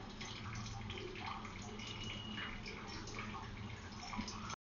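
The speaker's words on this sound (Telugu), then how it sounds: "స్టవ్ ఆన్ చేసి డీప్ ఫ్రైకి సరిపడా ఆయిల్ పోసుకోవాలి బాణలిలో" Cooking oil poured into a kadai on the stove for deep frying while preparing tindora fry, a steady liquid trickle that runs continuously at moderate level for several seconds, then stops abruptly.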